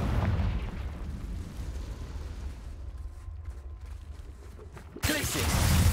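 Confringo fire spell blasts in the video game Hogwarts Legacy: a steady rumbling roar of magic and combat, then a sharp, loud burst that swells into a louder roar at the end.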